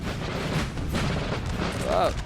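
Artillery fire in Napoleon Total War, part of an 1812 Battle of Borodino scenario: distant, muffled booms rumble beneath a busy battle wash while a voice talks over it.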